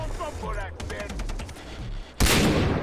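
Gunfire in the Far Cry 3 co-op shooter game, a sharp burst of rapid shots cracking out after a stretch of muffled game noise and voices, loud and close at the end.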